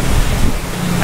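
Ocean waves and strong current churn around the Sebastian Inlet pier in Florida, a steady loud rush of surf mixed with heavy wind buffeting the microphone, with no voices over it.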